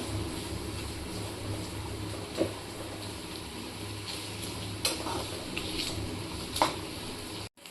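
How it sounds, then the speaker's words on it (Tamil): Large-cut shallots are tempering in hot oil, giving a steady frying hiss over a low background hum. A few distinct stirring scrapes stand out, and there is no talk. "வெங்காயம் போட்டு நம்ம நல்லா பெருசாக கட் பண்ணி நம்ம நல்லா தாளிச்சுக்கலாம்."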